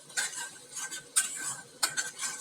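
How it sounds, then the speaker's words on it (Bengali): Spices being stirred into squash cooking in a pan, a few sharp scraping strokes of a spoon against the pan repeating at an uneven pace, close and fairly quiet, with no talk. "এখন এটা ভালো করে মিশিয়ে নেব মশলা দিয়ে সব কিছু।"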